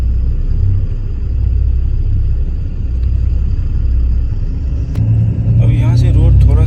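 A bus idles with a steady low engine rumble while stopped in night traffic, and a deeper surge of engine noise swells near the end.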